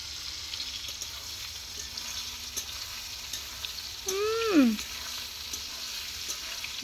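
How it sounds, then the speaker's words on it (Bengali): Pointed gourd frying in hot oil makes a steady close sizzle with small pops, broken once by a short rising-and-falling tonal squeal in the background. "পটলটা পুরো সেই লেভেলে ভাজছে।"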